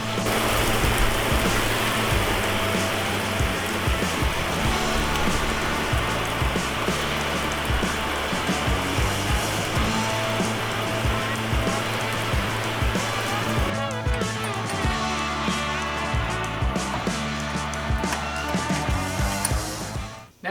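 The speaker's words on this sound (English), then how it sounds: "Here comes the rain." Rain pours steadily onto a surface near an abandoned Thunderbird being restored, a dense, continuous hiss and patter that carries on unbroken and eases slightly toward the end.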